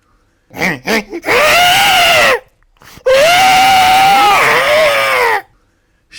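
A loud, close, drawn-out shriek in two long bursts after a few short rising yelps, a strained wailing cry meant as a wild man's scream, with no talk.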